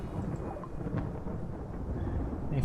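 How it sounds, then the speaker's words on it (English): Thunder from a freak localized lightning flash storm in the video game RimWorld rolls as a steady, rumbling wash with hissing rain over it, without any speech. "A freak localized flash storm is striking a small area with lightning."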